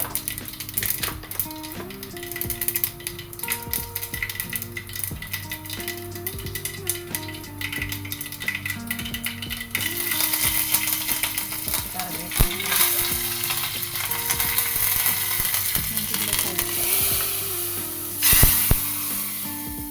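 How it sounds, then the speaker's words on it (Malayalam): Mustard seeds and curry leaves fry in hot coconut oil for an eggplant curry, sizzling and crackling under clattering stirring of a spoon against the pan, getting louder and denser in the second half. "നന്നായിട്ട് ചൂടായിട്ട് വരുമ്പം നമുക്ക് വെളിച്ചെണ്ണയിലേക്ക് കുറച്ച് കടുക് ഇടുക"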